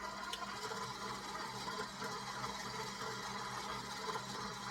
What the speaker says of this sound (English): Take your dough hook and attach it onto your mixer and crank it to a level 2